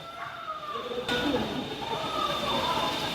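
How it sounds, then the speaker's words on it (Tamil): A ride-on toy train circling inside a shopping mall, rumbling and whirring nearby with a steady tonal hum and an abrupt rise in level partway through, over indoor crowd ambience. "ட்ரெயின் பாருங்கள் அப்படியே இந்த மாலை சுற்றிட்டே இருக்குது ட்ரெயின்"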